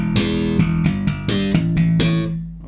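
Slap bass playing an octave riff slowly, open E slapped and popped octaves in a row of about seven punchy, evenly spaced hits, close and alone, the last note ringing out.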